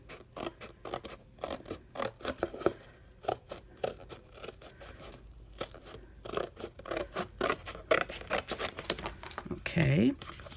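Scissors snipping through the side of a cardboard box for a craft project, a quick run of close, crisp cuts in uneven bursts, with someone speaking briefly near the end.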